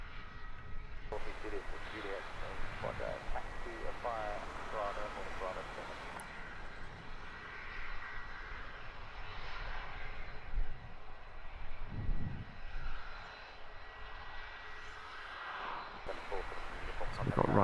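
A Ryanair Boeing 737 MAX 8 jet at Luton Airport gives off a low, distant engine rumble beneath a person talking.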